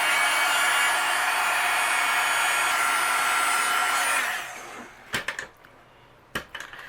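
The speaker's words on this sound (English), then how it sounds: "I'm going to melt the embossing powder." A heat tool blows loud and close with a steady whooshing roar as it melts embossing powder on a patterned paper card panel. After about four seconds it cuts off, followed by a few soft handling taps.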